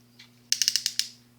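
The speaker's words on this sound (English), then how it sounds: "He has full ratchets in every joint. Nice ratchets. Clicky ratchets." Ratchet joints on a Transformers Prime Beast Hunters Predaking toy click through a quick run of six or seven sharp, close mechanical clicks, with a faint softer click just before and a steady low hum underneath.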